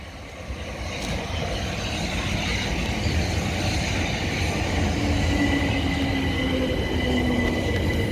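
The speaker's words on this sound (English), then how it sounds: "this is not stopping train" A non-stopping train passes through a Surrey railway station in the rain, rolling in close and loud with a steady roar of wheels on rail, faint clickety-clack and a thin squeal from the wheels, building over several seconds.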